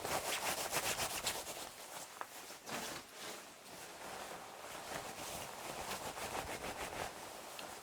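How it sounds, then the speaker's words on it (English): A waterproof jacket's fabric rustles and swishes in repeated soft strokes, faint and close, with no talk over it. "So I'd say the Ushare Outdoor is a little bit more noisy, but both of them do rustle around a bit."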